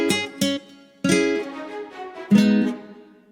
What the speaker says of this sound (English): I love the ensemble Spitfire symphonic strings.